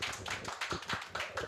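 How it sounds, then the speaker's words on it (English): Applause from a small audience welcoming Professor Moon Choi, head of department, at a graduate school information session; a short run of uneven, moderately close hand claps with no talking. "Please welcome her and give a warm round of applause."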